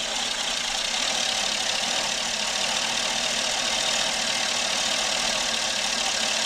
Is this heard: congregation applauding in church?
no